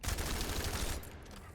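Rapid automatic gunfire from the Enduring Legacy gun in The First Descendant video game, a dense burst of shots for about a second that then cuts off, leaving a fading tail.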